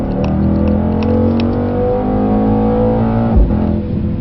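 Mercedes C63 S engine pulling at full throttle on a track, a loud, sustained, close-up roar with steady rising pitch and a brief dip near the end, no talk.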